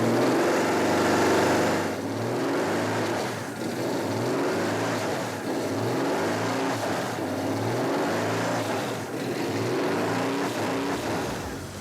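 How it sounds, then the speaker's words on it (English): A Porsche engine, a museum car kept in original condition, revs repeatedly under throttle: loud, close and continuous, with rhythmic surges and dips in pitch and no voices. "it still starts at the press of a button that makes the typical Porsche sound"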